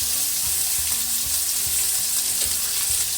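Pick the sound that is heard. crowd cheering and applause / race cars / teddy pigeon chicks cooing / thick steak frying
thick steak frying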